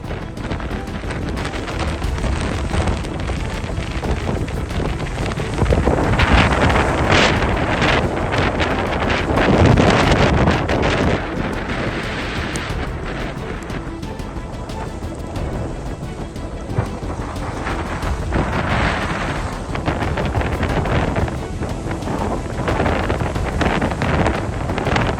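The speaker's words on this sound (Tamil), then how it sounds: "காற்றின் வேகம் அதிகமாக இருப்பதால் கீரிமலை கடற்பகுதி கொந்தளிப்புடன்" Strong wind and rough sea along the Keerimalai coast during heavy rain, a loud continuous roar of gusting wind buffeting the microphone with crashing surf beneath, steady for the whole stretch.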